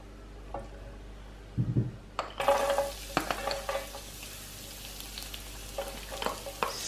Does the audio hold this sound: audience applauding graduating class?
no